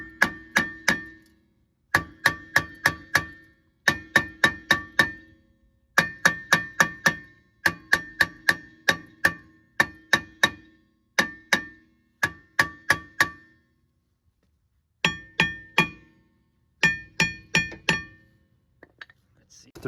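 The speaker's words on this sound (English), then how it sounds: "just kind of hammer it on the side here, hammer it here to loosen all the rust" Hammer blows on a rusted brake rotor of a 2009-2015 Toyota Venza during wheel bearing replacement, metallic clanks in rapid bursts of four to six strikes with short pauses, close and loud.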